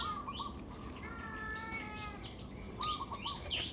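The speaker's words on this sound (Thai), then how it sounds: "เสียงเสียงร้องเหมียวเหมียว" Faint cat meows drift in amid chirping birds and outdoor ambience, soft and somewhat distant.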